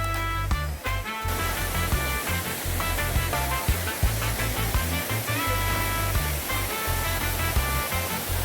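A river waterfall in St. Andrew, Jamaica roars in a dense, steady rush of falling water, loud and close, with no voices over it.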